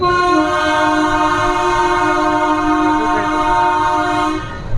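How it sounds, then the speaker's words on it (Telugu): Loud, sustained train horn blaring close by for over four seconds over the rumble of passing trains, with no talk. "రెండు ట్రైన్లు పోతారు సేమ్ అని"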